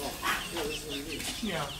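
Baby silkie chicks give soft, close clucks and peeps in a short, steady run.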